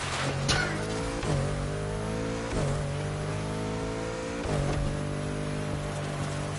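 A Bugatti's engine revs hard and steadily in the racing video game The Crew Motorfest, a loud, continuous drone that briefly surges and shifts at regular intervals as the car gathers speed.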